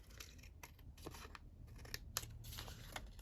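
Scissors snip through the top edge of a paper pocket being trimmed level, a series of short, crisp cuts in uneven rhythm, close and fairly quiet.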